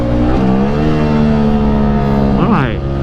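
A Yamaha R15 V3 motorcycle fitted with a Tridente F22 exhaust downshifts, its loud, close engine note stepping down through the gears with blips and a rising burble near the end.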